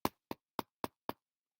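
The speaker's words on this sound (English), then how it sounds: "So she knocked on the door." Someone knocks on a wooden door in a children's story, five sharp, evenly spaced knocks. They are fairly soft and stand alone against silence.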